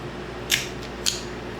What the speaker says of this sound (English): if we go ahead and kind of snip this breastbone